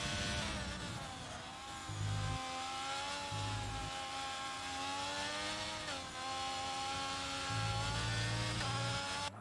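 A Ferrari race car engine revs continuously with a steady, layered harmonic whine in a racing video game. Low thumps break in briefly a few times, and the sound holds loud and close throughout.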